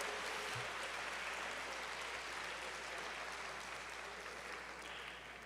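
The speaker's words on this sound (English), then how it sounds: "One more round of applause for Congressman Al Green from Texas." A crowd at a convention tribute to Rev. Jesse Jackson applauds Congressman Al Green of Texas, a steady, distant wash of clapping heard faintly over a low hum, tapering slightly toward the end.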